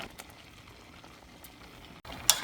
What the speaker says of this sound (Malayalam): ഇതിപ്പം ചെറുതായിട്ട് തിള വന്നിട്ടുണ്ട്.